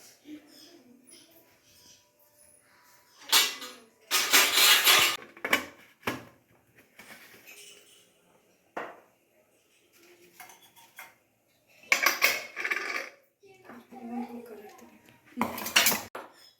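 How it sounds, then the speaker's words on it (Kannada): Metal pressure cooker lid being fitted and closed over a pot of Avarekai Bisi Bele Bath, with several sharp clanks and clattering bursts separated by quiet pauses, close and fairly loud, with a voice talking between them. "ಈಗ ಕುಕ್ಕರ್ ಮುಚ್ಚಳ ಮುಚ್ಚಿ ಇದನ್ನು ಎರಡು ವಿಷಲು ಬಿಟ್ಬಿಡ್ತೀನಿ"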